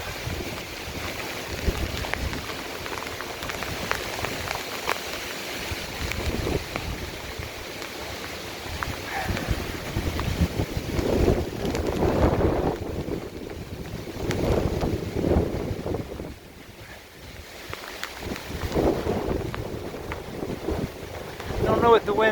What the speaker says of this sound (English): Don't know what the winds are, but 20-30 miles per hour